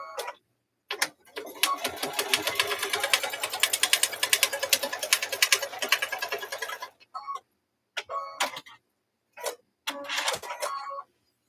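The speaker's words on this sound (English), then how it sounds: "Then we'll quilt on the outside here." Sewing machine quilting along the outside edge of a fabric pot holder, a fast steady run of stitching for several seconds, then a few short bursts with pauses between.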